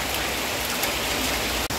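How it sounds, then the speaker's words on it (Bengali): Heavy rain pours down steadily during a stretch of several days of downpour, a dense, even hiss of drops close by with no other sounds standing out. "কয়েকদিন যাবৎ প্রচুর বৃষ্টি নামতেছে।"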